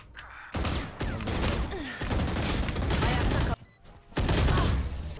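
Vandal rifle fire in the Valorant video game comes as dense, loud bursts of rapid gunshots separated by brief pauses, close and harsh with a crowded game mix underneath.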